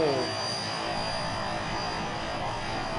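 A burning airplane engine in the BeamNG.drive game gives a loud, steady roar with a high whine, continuous and close throughout, with no gaps.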